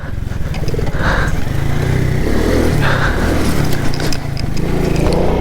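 A moped engine drones loud and close while riding a motocross track, its buzzing note rising and falling with throttle changes throughout.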